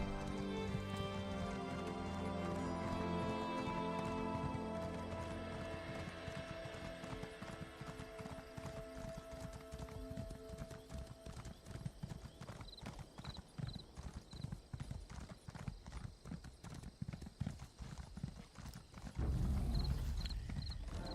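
Horse galloping in Elder Scrolls Online, a rapid rhythmic clip-clop of hooves that builds steadily, with a whinny near the start and a brief louder burst near the end.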